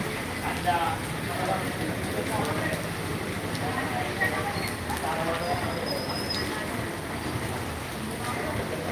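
Steady rain falls during a church feast outing, a dense continuous patter with scattered drops over low background rumble, lasting the whole stretch without a break.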